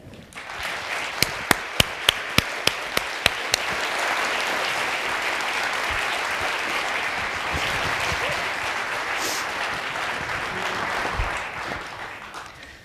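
A lecture-hall audience at a National Writers Series event applauds to welcome author Tess Gerritsen, a few crisp individual claps swelling into steady, sustained applause that fills the room before fading slightly.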